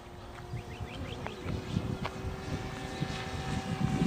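A modified Peace Drone flies at full throttle, heard as a faint, distant, steady motor whine and propeller buzz in open air, with occasional bird chirps over it.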